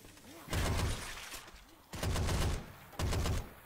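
Gunfire in Left 4 Dead 2 comes in three loud, sustained bursts separated by brief pauses, sharp and close, with quieter game ambience between them.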